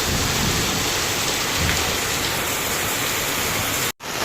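Heavy rain on a dark rainy day pours down in a dense, loud, unbroken hiss that cuts off abruptly near the end.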